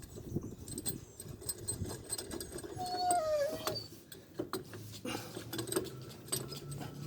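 A dog gives a short, wavering howl in the background of a garage, faint and brief amid scattered clanks and mechanical noise from brake work on a 2014 Hyundai Santa Fe.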